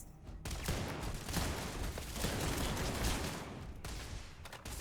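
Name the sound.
NASA turrets firing in the video game Starfield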